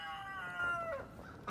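Cats at an animal sanctuary give a faint, drawn-out meow with a rising and falling wail, heard alone over quiet outdoor background.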